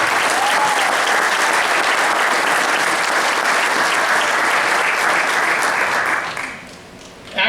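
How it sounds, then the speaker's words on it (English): Loud, sustained applause from the audience at an athletic hall of fame ceremony, thanking the organizers; thick, continuous clapping for about six seconds before it quickly dies away. "These people worked very hard to put this on, and we'd like to give them a round of applause."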